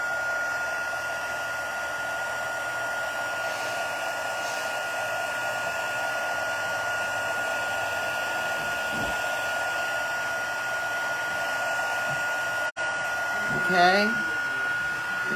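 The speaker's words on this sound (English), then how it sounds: "So using your heat tool, turn around and now heat up the snow." A heat tool's steady loud blowing hum runs throughout while heating snowfall puff paint on a craft project, with a brief spoken word near the end.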